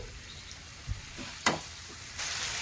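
Onion, tomato, cashew and spices fry in a pan for potato korma, a steady close sizzle broken by a few sharp spoon scrapes and knocks as the mixture is stirred.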